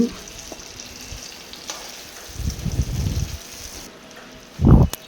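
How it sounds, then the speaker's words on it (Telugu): Stuffed brinjals (eggplants) fry in a pan and are stirred now and then, giving a steady close sizzle with louder bursts of scraping and spattering as the pieces are turned; no one speaks. "ఇప్పుడు చూడండి వంకాయలు మొత్తం ఇట్లా దగ్గరగా ఫ్రై అవ్వాలండి"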